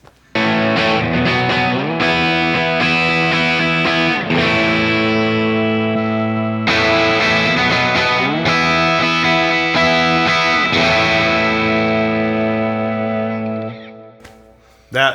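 A distorted electric guitar plays sustained chords and riffs through a modeler's stock amp cab model, thick and saturated, ringing out for a long stretch before fading.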